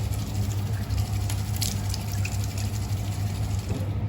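Water runs steadily from a tap during a face wash with face wash, a continuous low gushing rush with no talking, in a cold hill-station setting in Mahabaleshwar.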